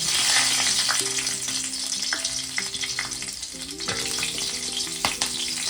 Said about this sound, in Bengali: তেলটা সর্ষের তেলটা গরম হয়ে গেছে একটু কালো জিরে ফোড়নে দিয়ে দেবো আর দিয়ে দেবো দুটো কাঁচা লঙ্কা